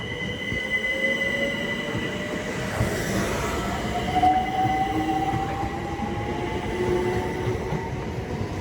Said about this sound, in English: As incoming now will be terminating London Overground service from Dalston Junction.